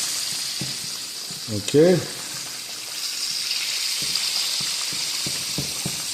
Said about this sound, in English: While the chicken's frying